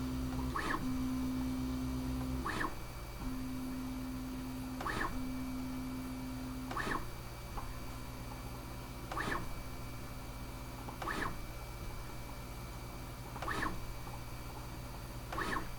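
A Bambu Lab A1 Mini 3D printer runs quietly, giving a soft steady hum broken by regular faint clicks about every two seconds, with an intermittent low tone in the first half.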